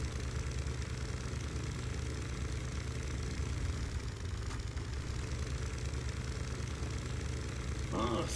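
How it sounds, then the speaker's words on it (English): A boat engine in the video game The Sinking City drones steadily and loudly throughout, a constant low rumble with a slight vibrating texture and no talking. "I feel still like this boat is loud as fuck."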